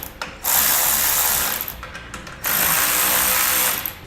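A ratchet or power tool snugs nuts on an Air Lift helper spring bracket under a 2016 GMC Sierra, running as two loud sustained whirring-clicking runs of about a second each, close by with no speech.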